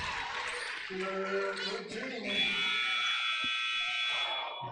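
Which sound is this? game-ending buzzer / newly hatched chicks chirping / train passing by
game-ending buzzer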